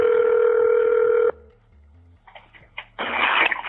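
A telephone call tone sounds steadily and loudly, then cuts off into a short gap of low beeps and clicks before a voicemail connection noise swells up; close, no speech.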